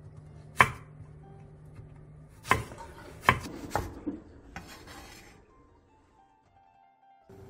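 Eggplants are sliced lengthwise into long strips on a cutting board, giving several sharp, close knife chops spaced unevenly, followed by softer scraping and quieter handling as the sound fades.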